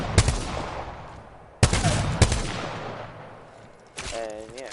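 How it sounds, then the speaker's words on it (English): A video game gun in burst mode fires sharp, loud reports in quick succession, each followed by a decaying tail, with a brief voice near the end. "And yeah, it pretty much just shoots 2 bullets."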